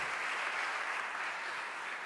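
Congregation applauding in a church during the blessing of an icon, a steady wash of many hands clapping that stays loud and even throughout, with no talking over it.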